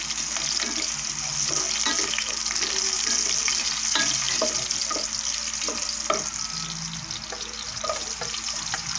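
Garlic fries in a pan over low heat, giving a constant close sizzle with small pops and occasional light stirring scrapes, with no talking.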